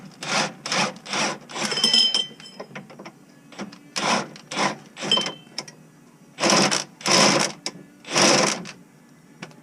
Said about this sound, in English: use my impact gun to get it out of here